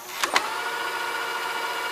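Two soft mechanical clicks, then a steady whirring hum of a Funai FHC-1200 VCR rewinding a tape, quiet and close, with no voices.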